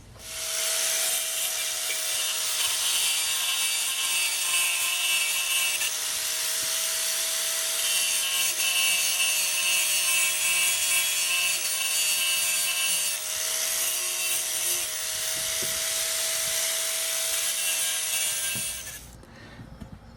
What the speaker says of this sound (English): I'm just taking my grinder and I'm going to smooth off this around here.